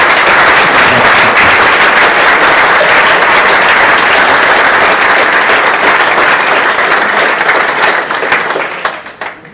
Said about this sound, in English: So if everyone could give Tom a really big round of applause.